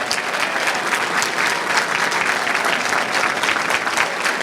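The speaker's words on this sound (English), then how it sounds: "Give yourselves a round of applause." Loud, sustained applause fills a packed room at an Erie County Democrats campaign kickoff, with dense clapping from many hands continuing without a break.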